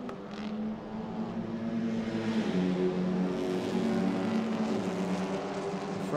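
An Alfa Romeo Giulietta TCR touring car during free practice at Buriram, its engine droning loud and sustained with a shifting pitch as it laps the track.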